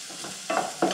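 Onions sautéing in a pan for aloo stuffed paratha, a soft continuous sizzle broken by a couple of short stirring scrapes, close up with no voices.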